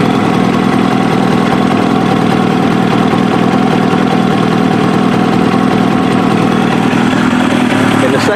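Kawasaki ZX7R sport motorcycle engine idling steadily, loud and close, with a constant low mechanical drone and vibration; any small throttle openings are barely distinguishable.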